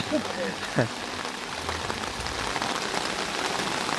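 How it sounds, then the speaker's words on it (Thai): Steady rain falls on and around a newly set-up outdoor stage, a dense, even patter close by with a brief faint sound near the start. "บรรยากาศฝนตกครับพี่น้องจ้า"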